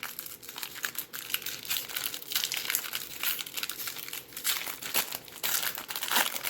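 Foil wrapper of a jumbo pack of 2019 Bowman Draft baseball cards crinkling and tearing open, close and steady for several seconds, with no talking.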